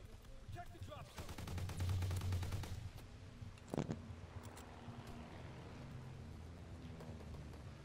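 Mauser rifle in a WW2 video game fires in rapid bursts, a fast rattling stream of close shots followed by a sharp crack and scattered quieter gunfire and rumbling battle noise.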